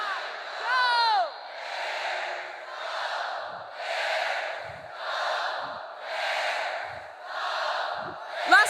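At a university new student convocation, a crowd of alumni shouts a cheer in unison. The shouts come as a run of rhythmic, roughly evenly spaced bursts, with a higher whooping cry near the start.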